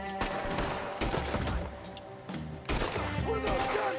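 Gunfire in the video game Red Dead Redemption 2, with a dense run of overlapping shots and crashes, loud and steady throughout, and a brief dip near the middle before the volley resumes.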